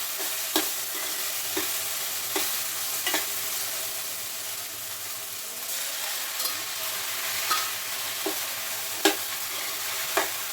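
Okra and tomato fry and sizzle in an oiled pan, with a steady frying hiss broken by regular scraping stirs of a spoon about every second or so, close and moderately loud.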